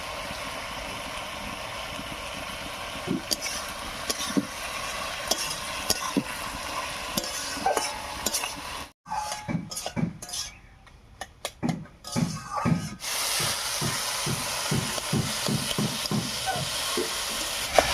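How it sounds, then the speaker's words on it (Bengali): Spiced masala being sautéed with soft bottle gourd for a boroli fish curry, a steady close sizzle broken by a brief quiet gap, then scraping spatula strokes against the pan in a loose rhythm. "মশলাটা দিয়ে খুব ভালো করে কষিয়ে নিয়েছি"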